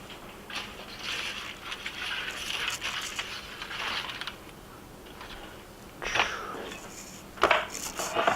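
Two spatulas scrape and lift a cauliflower pizza crust off a pan, giving close scraping and crunchy crackling that comes in bursts, with sharper clatters near the end and no speech.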